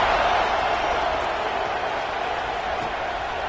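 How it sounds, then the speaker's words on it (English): A stadium crowd of football fans at a night game roars and cheers in a steady, loud, dense wash of noise that holds throughout. "these fans, they get something to cheer about with that first offensive possession"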